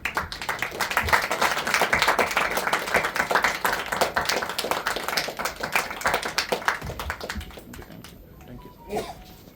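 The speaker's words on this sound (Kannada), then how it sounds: "ಎದ್ದು ನಿಂತ್ಕೊಂಡು ನಿಮಗೊಂದು ಚಪ್ಪಾಳೆ ಕೊಡೋಕ್ಕೆ ಇಷ್ಟಪಡ್ತೀನಿ" Audience clapping fills a hall at a film success celebration, steady sustained applause throughout with voices mixed in beneath, tapering near the end.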